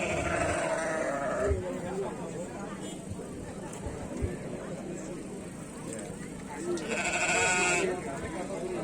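Sheep bleat repeatedly at an outdoor sheep festival in Brebes, with several loud, wavering calls standing out over a constant crowd murmur and an announcer's voice.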